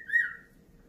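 A single short, clear bird whistle slides gently downward, close and fairly quiet, followed by near silence.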